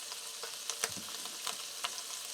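Ground meat sizzles in a pan being readied for onion and garlic, a steady broadband crackle with a few sharper pops and spatters, close and moderately quiet, with no one talking.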